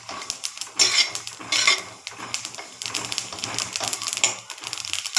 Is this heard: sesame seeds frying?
yes